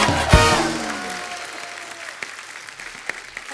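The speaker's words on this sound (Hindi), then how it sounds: "माधुरी दीक्षित जी के लिए एक बार जोरदार तालियां हो जाए" A studio audience at a comedy show breaks into applause after a loud opening burst that includes a brief musical sting, then the clapping settles into a fading, scattered patter.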